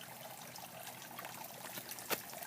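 A faint trickle of water runs into a soil well around a freshly planted plumeria in Arizona, a soft steady dribble with one brief louder splash near the end, no voices.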